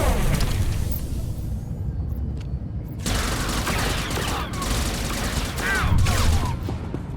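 Dense, continuous gunfire in Star Wars: The Old Republic with rapid bursts and booming impacts, loud and close throughout, with faint voices mixed underneath.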